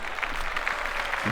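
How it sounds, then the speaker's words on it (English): Applause for Dreamville, a brief patter of clapping from a small crowd, moderately loud and dense throughout the short burst. "round of applause for Dreamville"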